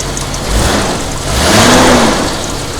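A 1988 Jeep Comanche pickup engine idles steadily just after starting, a close, continuous mid-pitched rumble that swells slightly in the middle, with no talking.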